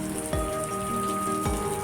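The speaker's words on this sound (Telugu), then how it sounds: "రాత్రి నుంచి భారీ వర్షం ఎలా పడుతుందో చూస్తుంది" Heavy, nonstop rain pouring down, a dense close patter on surfaces with a couple of heavier drops thudding through the steady downpour.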